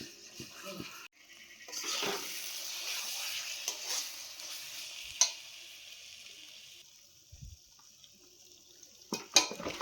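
Water is poured into spice masala frying in a pan, bringing a burst of hissing sizzle followed by quieter bubbling and occasional scraping of a stirring spoon against the pan.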